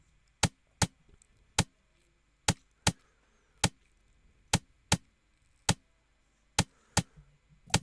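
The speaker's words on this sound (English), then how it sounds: "this is actually made up of some combination of rim shots" Dry rim shots tap out an Amapiano drum groove, sharp isolated clicks in a syncopated, repeating pattern, about fourteen crisp hits over faint background hum.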